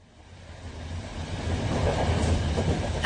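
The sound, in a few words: train travelling on rails, podcast sound effect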